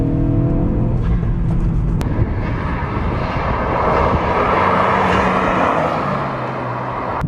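A Ford Focus RS engine in race mode roars loudly and steadily at high revs, a throaty drone with brief surges, close up and with no talking.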